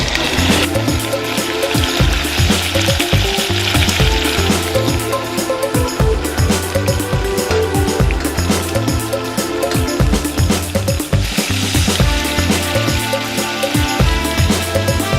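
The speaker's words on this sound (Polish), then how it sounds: "wrzucamy na mocno rozgrzany tłuszcz, żeby zamknęło pory, dzięki temu mięso nam się nie wysuszy" Meat sears in strongly heated fat, giving a dense, loud, continuous sizzle and spatter that stays close and steady throughout, with no voices.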